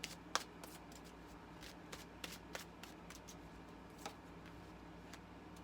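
Angel oracle cards being shuffled by hand: soft, papery riffles and light flicking taps, sparse and quiet, close to the listener with no talking.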